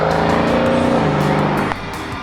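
A 2019 Dodge Challenger R/T Scat Pack widebody with the 392 engine roars loudly at close range under hard acceleration, then the engine note drops sharply as the car eases off near the end.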